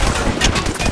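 Rapid gunfire in a video game, a loud dense burst of shots packed into under a second with no pauses.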